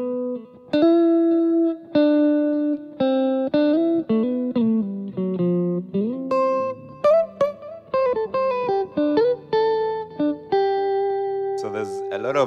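Electric lead guitar with effects playing the melody of Ewe Getsemane, a run of plucked, bending and sliding notes with hammer-ons, clear and up close, ending on a sustained note.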